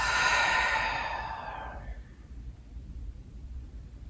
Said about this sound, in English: And then a full breath.